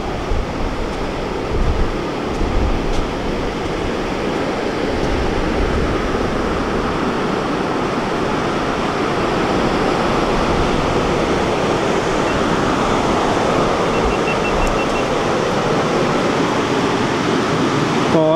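Ocean surf crashing against the umbrella rocks at Sabangan Beach in Agno, Pangasinan, a loud, steady roar of breaking waves and wash that continues without pause.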